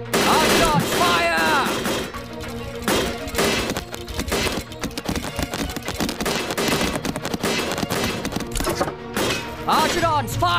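Arrows loosed by archer units in the Stick War video game, a rapid, crowded barrage of volleys and impacts layered with game music and battle noise, with a voice shouting over the fighting.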